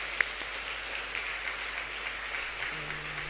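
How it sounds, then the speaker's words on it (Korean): A church congregation applauds in praise, a steady, soft, distant clapping wash that holds at an even level throughout. "우리 함께 주님께 영광의 박수를 올려드리겠습니다"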